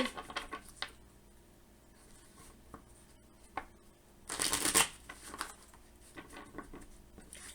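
A deck of tarot cards is shuffled in close, soft riffles and patters, with one louder burst of rapid flicking in the middle, then scattered light card taps.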